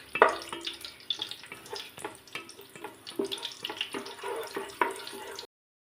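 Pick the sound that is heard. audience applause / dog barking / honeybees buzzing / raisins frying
raisins frying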